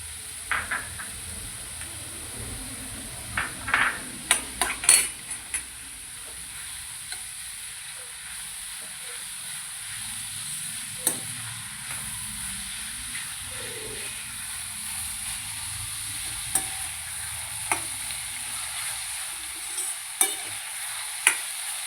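Ginger garlic paste added to a pan for veg Amritsari cooks with a faint, soft sizzle, broken by a few sharp clinks and stirring taps, and no speech.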